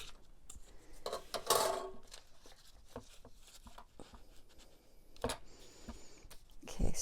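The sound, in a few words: trimming planner pages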